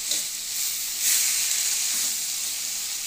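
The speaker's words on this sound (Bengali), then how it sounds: "কড়াই একটু তাপ বেশি করে দিয়ে শাকটা একটু ভেজে নিয়ে নামাবো" Red amaranth greens fry in a wok over high heat, making a steady, close hissing sizzle that swells briefly and then settles back to an even crackle.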